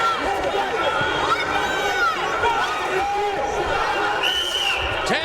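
A boxing arena crowd roars and cheers continuously at a steady, loud level, with shouting voices spread throughout and commentary-style speech mixed in over the din.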